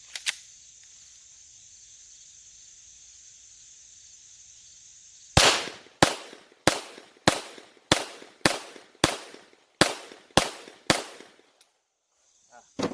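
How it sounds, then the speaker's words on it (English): A Glock 17 pistol fires a string of about ten sharp, loud shots at a shooting range, spaced at a fairly even pace after a quiet stretch with faint high background hiss. "I'm going to come back and shoot one more string of 10"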